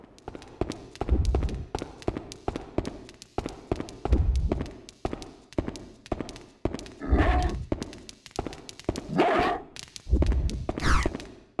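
Dog barking in the Haunting Ground video game, repeated sharp barks in rhythmic bursts with heavy low thumps, loud and close, mixed with game effects and no talk.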